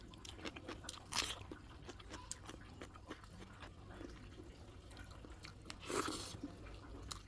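Someone eats panta rice with raw green chili and raw onion. Faint, close chewing and soft crunching run throughout, with two louder crisp bites standing out, and no speech.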